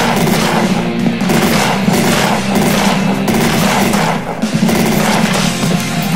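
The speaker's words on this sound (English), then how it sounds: "now we switch to a new gun, Chris Vector" A Kriss Vector submachine gun fires in rapid, sustained bursts in the Slendytubbies: Growing Tension red room survival game, close and loud, with dense rattling reports and only a brief dip in the volley.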